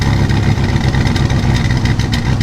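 A $1,000 minivan engine idling after being revived, a loud, rough, steady mid-pitched rumble close by with slight unevenness, no voices.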